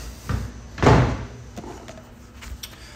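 A door swings shut with a single solid thud, preceded by a faint rattle, inside an aquaponics facility; quiet room tone follows.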